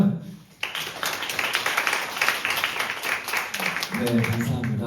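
Audience applause at a competition for regenerating aging tourist sites, a dense steady clatter of many hands lasting several seconds, with a brief voice before it starts and another as it fades.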